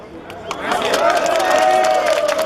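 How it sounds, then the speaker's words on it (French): Applause and cheering from a crowd at a political rally of Guinean opposition supporters in Brussels, rising after a second into a sustained, dense wash of clapping with a tonal whistle or call running through it. "Merci, applaudissez très fort."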